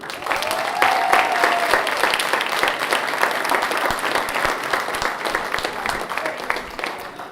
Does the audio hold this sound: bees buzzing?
no